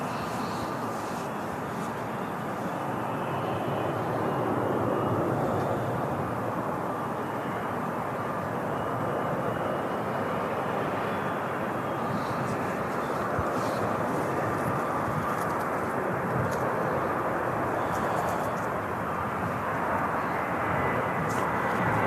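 A Ryanair Boeing 737 MAX 8200 jet arriving from Dublin at Manchester Airport gives a sustained broadband engine roar that holds steady and loud for the whole stretch, with no talking over it.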